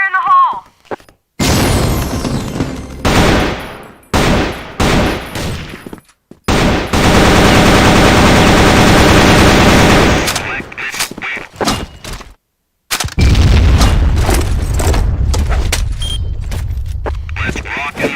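Gunfire and a grenade blast in a video game: loud bursts of rapid shots broken by pauses, then a long, dense roar from the explosion, and more sustained firing near the end.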